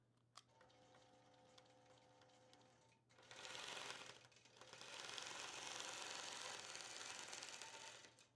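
Sewing machine quilting fabric, with quiet ticking and a faint hum at first, then two bursts of rapid, steady stitching chatter from close by, the second one longer.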